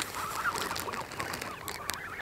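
A duck calls repeatedly in quick raspy quacks, fairly close, over a steady outdoor background hiss near water.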